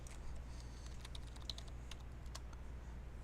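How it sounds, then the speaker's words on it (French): Ctrl-Alt-Delete pressed on a computer keyboard while a server restarts: a few quiet plastic key clicks scattered over a steady low hum, with no voices. "Maintenant, on va faire clavier CTRL-ALT supprime."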